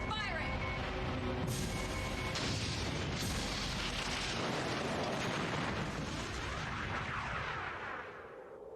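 Starship weapons fire and explosions in an old interactive movie game, a loud, sustained barrage of booming blasts and crackling bursts that slowly fades out near the end, with voices briefly underneath.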